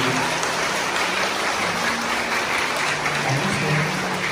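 Steady, dense applause fills a graduation ceremony hall, a continuous wash of clapping that stays even and fairly loud throughout, with faint voices beneath.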